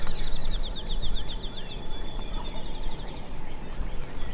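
Wild turkeys gobble repeatedly from distant timber in Kentucky woods, with rapid rattling calls rising over a steady outdoor background noise.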